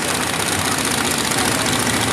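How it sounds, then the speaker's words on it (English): A worn Chevy V8 in a modified 4WD at a night motorsport event misfires with popping in the exhaust, heard as a loud, close, continuous engine roar with a rough, uneven knock throughout and no voices. "that motor is not firing on 8 all the time. You hear that popping in the exhaust?"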